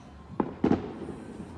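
Fireworks bursting outdoors on New Year's night: two sharp pops, the second a quick double crack, echoing faintly with a low background rumble.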